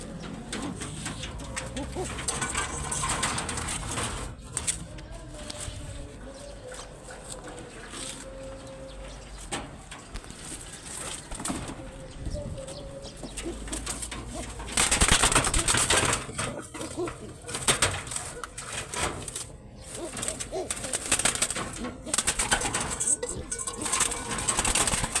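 Pigeons cooing steadily through the whole stretch, soft repeated calls over a busy background with occasional knocks and rustles, and a voice talks faintly at times.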